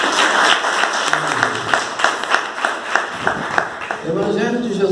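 Church congregation applauding together, a steady, moderately loud wash of many hands with rhythmic pulses, with a voice speaking over the clapping toward the end.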